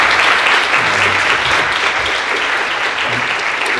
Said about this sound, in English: Let's give a round of applause to Ernest.